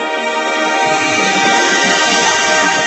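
A Camdenton Lakers high school marching band plays during a Friday night football game, a loud, sustained wash of brass and band tones filling the stadium for about three seconds, with deeper drum pulses coming in partway through.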